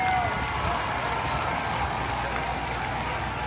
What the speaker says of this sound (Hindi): एक बार पुनः मैं आप सबसे जोरदार तालियों की अपील करती हूँ।